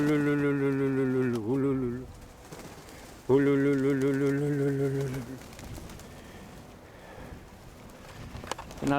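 Pigeons around a loft in the evening, with a loud tonal coo-like call in two long bursts near the start, then quieter outdoor ambience and faint voices.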